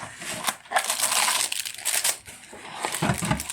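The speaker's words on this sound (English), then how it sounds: "I'll have to unwrap it." Crisp plastic crinkling and rustling as a package of keyboard keycaps is unwrapped, in close, irregular bursts of crackle with short pauses between them.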